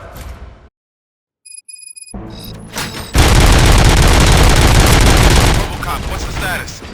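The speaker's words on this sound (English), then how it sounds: "Gunshots? What's going on?" In the video game Robocop: Rogue City, a short silence gives way to a few electronic blips, then a loud burst of rapid gunfire and booms fills the rest.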